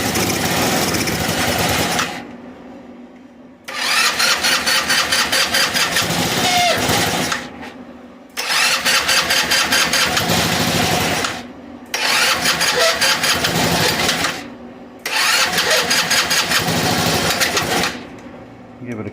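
An abandoned GY6 retro-style scooter, neglected for 15 years, repeatedly starts and cuts out: several loud bursts of buzzing engine running a few seconds each, separated by short gaps of quiet.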